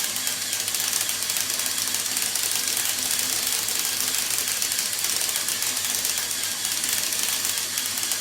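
Plastic LEGO gears in an all-wheel-drive model car spin with every differential unlocked, producing a fast, even rattling whir that runs steadily and quietly throughout.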